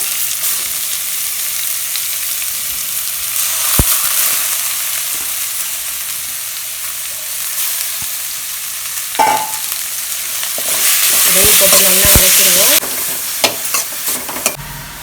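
Grated radish for mullangi chutney sautés in a hot pan, a steady crackling sizzle with stirring scrapes and clinks, growing louder and more intense toward the end, with no talking.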